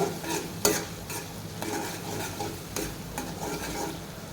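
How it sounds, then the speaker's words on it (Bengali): Noodles coated in tomato sauce are stirred in a hot pan, a spatula scraping in repeated strokes with a sharp clack near the start, over a soft steady sizzle. "টমেটো সস দেব এরপর নাড়াচাড়া করে নেব"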